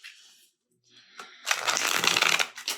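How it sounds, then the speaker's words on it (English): Thick, durable tarot cards riffle and flutter rapidly in a crisp rifle-shuffle burst after a few soft shifting sounds, close and fairly quiet. "I have to put a lot of pressure into that to get that to shuffle"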